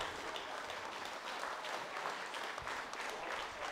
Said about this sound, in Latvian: Aplausi jums pašiem, kuri dziedāja.